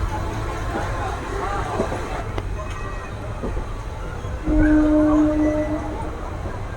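Train noise at Nalhati Junction railway station, a steady rumble of rail and platform sounds with a brief whistle-like tone near the end.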